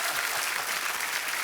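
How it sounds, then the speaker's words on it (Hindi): A studio audience at a comedy talk show applauds in a dense, steady wash of clapping throughout, loud and continuous, with no voices standing out. "तो बड़ा जोरदार तालियां"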